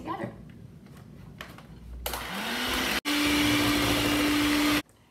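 A kitchen mixer whirs through coffee cake batter for a Mother's Day brunch, starting up partway in and running loud and steady for nearly three seconds before cutting off. Faint talk and quieter handling sounds come before it.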